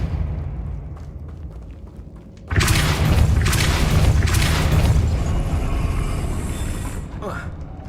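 In Hogwarts Legacy, casting the Depulso spell sets off a sudden deep boom that swells into a sustained rumbling blast, loud and full, slowly fading, over a low background ambience with a voice present.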